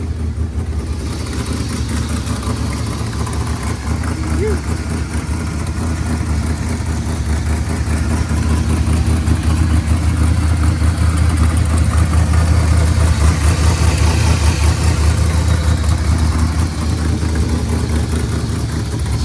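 A Cutlass car engine idles steadily, a loud low rumble that swells slightly in the middle and holds an even, continuous drone with no talking.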